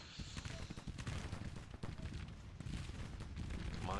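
Dense gunfire crackles in a strategy video game battle, a rapid, continuous stream of overlapping shots and bursts, loud and steady throughout with no pauses.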